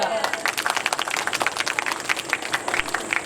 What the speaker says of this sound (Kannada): ಜೋರಾದ ಚಪ್ಪಾಳೆ ನಿಮಗೋಸ್ಕರ